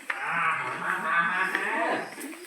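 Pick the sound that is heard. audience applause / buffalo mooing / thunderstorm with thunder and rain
buffalo mooing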